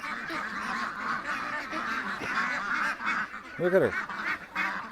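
Several ducks or geese honk and call over a steady outdoor background, with one louder, rising call standing out near the end; a voice speaks briefly.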